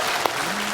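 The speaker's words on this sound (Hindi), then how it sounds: "तालियां रिदम में होनी चाहिए" Studio audience applause on a Hindi TV comedy show, a dense continuous patter of many hands, moderately loud, with one brief sharper clap standing out.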